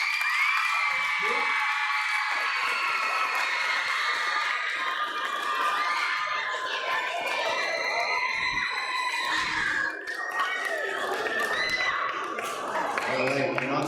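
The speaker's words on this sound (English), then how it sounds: "Can we get one more round of applause?" A middle school audience at a lecture bursts into loud, sustained applause and cheering, with children shouting and whooping over continuous clapping that stays dense throughout, while a voice speaks over the crowd.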